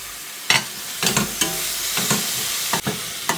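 Tomatoes frying in a pan for a prawn and ridge gourd gravy, a soft continuous sizzle broken by several sharp scraping stirs of a spoon against the pan, close and clear with no voices.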